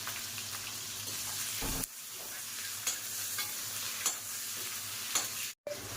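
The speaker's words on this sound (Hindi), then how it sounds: "ये प्याज जो मैंने काट रखी हैं इन्हें डाल देती हूँ" Chopped onions fry on a low flame in a pan, a soft, steady sizzle with occasional stirring clicks and scrapes and a brief break near the end, with no voices.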